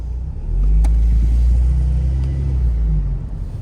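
A 2024 Ford Mustang EcoBoost Premium pulling away through a neighborhood, a deep steady engine and road rumble swelling as it accelerates, loud and close inside the cabin, no talking.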